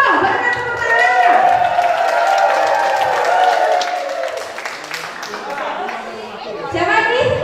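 An audience applauds a guest performer, a dagelan comedy practitioner, at a traditional Javanese comedy forum in Yogyakarta, with sustained clapping, crowd noise and chatter.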